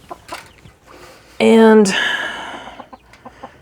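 Chickens give a loud, sudden squawk, followed by softer clucks and scattered bird calls from around a coop, with a brief word of talk mixed in.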